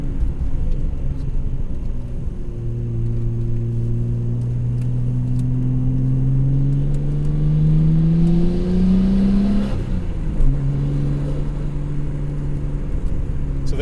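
A Nissan R32 Skyline GT-R V.spec II engine blips and revs through a heel-and-toe downchange, its pitch rising, then dropping sharply and settling back, heard loud and close without talk.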